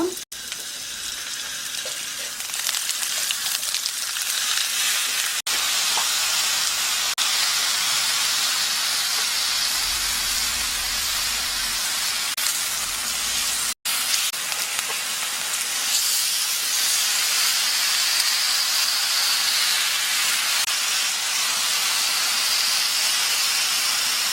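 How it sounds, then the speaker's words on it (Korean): Beef fries in a pan with a little perilla oil, giving a loud, continuous close-up hiss and sizzle that carries on with only one brief break. "고기를 들기름이나 식용유 조금 넣고 구워주세요."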